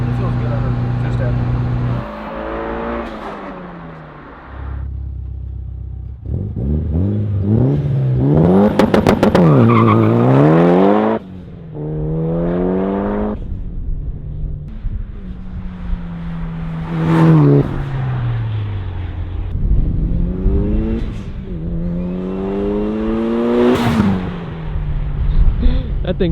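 Built 500 hp Mitsubishi Lancer Evo on E85 at 34 psi: the engine holds on two-step, launches and revs hard through rising gears, with tire squeal and people talking over the engine throughout.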